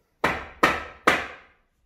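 A hammer strikes timber fixed to a wall three times in a steady rhythm. Each knock is sharp, close and solid, with a short decaying ring.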